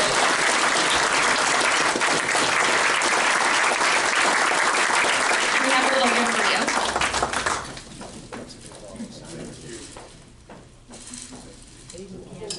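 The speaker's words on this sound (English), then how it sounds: "And if we could all give Kevin another round of applause for his leadership." An audience at a trade talk claps loudly and densely for several seconds before the applause thins out and fades, with voices speaking over the tail.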